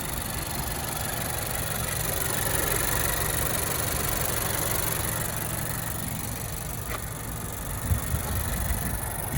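A 2018 Honda CR-V EX-L's 1.5-liter 16-valve inline-four engine idles with a steady, low, even rumble throughout, with a constant hum and faint mechanical vibration, no voices present.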